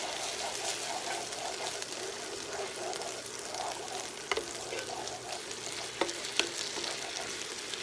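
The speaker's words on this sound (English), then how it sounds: "Okay, I'm going to go ahead and add some of the squeezed garlic." Squeezed garlic fries in melted butter, giving a continuous soft sizzle with stirring and a few sharp clinks of a utensil against the pan, close and steady, without talk.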